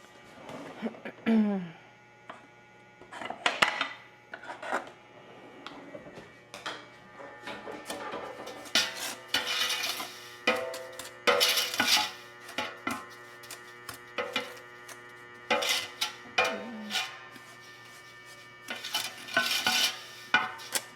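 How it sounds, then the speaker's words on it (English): Apple pie filling spices, including nutmeg, are mixed together in a bowl, with repeated scraping, clinking strokes of a utensil coming in irregular bursts over a quiet room hum, close and moderately loud. "I'm going to kind of mix all of those together well"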